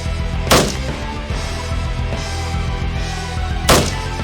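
Gunfire in a video game, two loud sharp shots spaced about three seconds apart over a dense, rumbling game soundtrack, with no voices.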